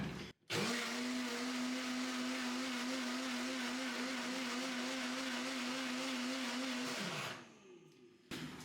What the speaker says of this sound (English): So I will mix the chips and the water. I will in this case use a kitchen blender.